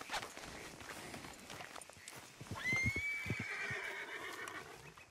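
Horse in the Red Dead Redemption 2 video game gives a loud rising whinny near the middle, with scattered hoof clip-clops and footsteps around it at close range.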